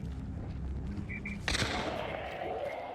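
A single sharp gunshot in the video game Hunt: Showdown cracks out midway and its echo trails off, following a stretch of low rumbling background with faint voices.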